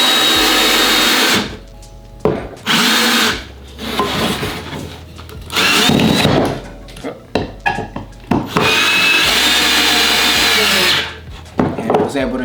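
An entry-level Ryobi drill drives a long screw into wood with no pilot hole, whirring in several loud bursts separated by short pauses and small handling noises.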